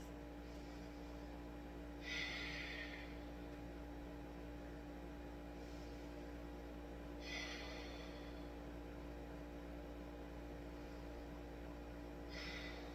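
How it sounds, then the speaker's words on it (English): Ujjayi yoga breaths drawn in and out through the nose, three soft breathy bursts spaced several seconds apart, faint over a steady low room hum. "inhale, exhale out the nose, Ujjayi breath"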